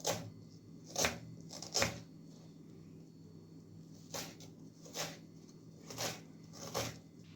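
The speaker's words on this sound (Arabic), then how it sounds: "صافي وغادي حتى نكمل البصله ديالي كامله على هاد الطريقه هذه نشلضوها رقيقه" Peeled onions are sliced thinly with a knife, about eight crisp, separate cuts knocking on a board at an irregular, unhurried pace in a quiet room.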